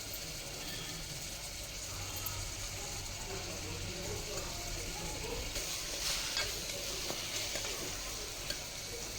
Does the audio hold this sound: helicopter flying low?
no